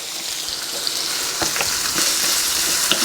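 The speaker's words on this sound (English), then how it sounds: "I throw in the asparagus" Asparagus sizzling in a hot frying pan on medium-high heat for a breakfast spring scramble, a steady loud crackling hiss with occasional scraping and stirring sounds.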